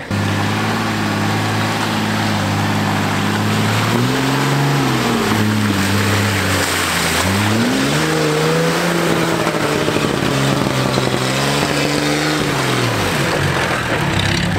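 A Nissan Patrol 4x4, hubs locked, labours up a steep offroad track, its engine droning steadily throughout with pitch rising and dipping as revs change under load, loud and close with no talking.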